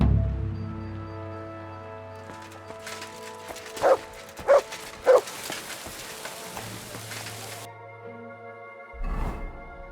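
A dog in the video game Kingdom Come Deliverance 2 barks three times in quick succession, with a rain-like patter and a low musical bed around it.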